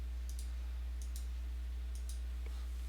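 Several sharp mouse clicks in quick pairs, spaced about a second apart, faint and close over a low steady hum while setting up a chess study on a computer.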